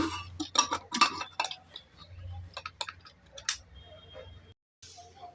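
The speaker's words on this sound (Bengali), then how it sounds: "এবার আমি প্রেশার কুকারের ঢাকনাটাকে লাগিয়ে দেব" Rapid metallic clinks and clatters as a pressure cooker lid is handled and fitted over flat beans and oil, followed by a few softer taps and a brief silence.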